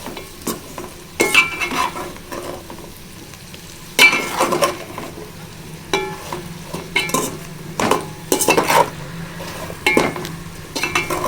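Sliced bitter gourd stirred in hot oil in a pan for a tomato curry, with continuous sizzling and irregular scraping and clinking strokes of the spoon against the pan, close and unaccompanied by talk.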